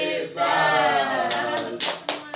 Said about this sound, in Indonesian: Kita tepuk hebat dulu.